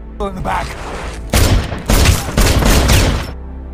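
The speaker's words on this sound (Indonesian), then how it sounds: "Setelah sampai di tempat penembak jitu tersebut, Kapten Said pun langsung menembaknya." Battle gunfire rings out as a captain shoots a sniper on a hillside, several loud, heavy shots in quick succession, with a voice briefly heard before them.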